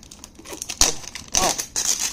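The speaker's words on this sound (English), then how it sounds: "Let me try and cut it open." Thick plastic packaging around a toy blind box crinkles and crackles as it is cut open, a few brief close crunching bursts with no talk.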